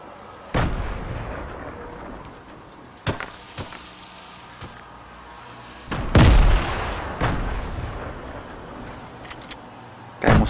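Gunfire in the mobile game Fortnite Mobile: a series of sharp, loud shots and booms at irregular intervals, each with a short echoing tail, with no talking.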